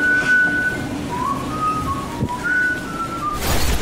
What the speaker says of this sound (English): I'm not singing it, I'm whistling.